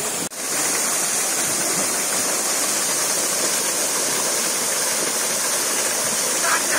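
Magar waterfall in Miklajung, Morang, pouring steadily: a loud, continuous broadband rush of falling water that fills the whole stretch, heard close up with no voices.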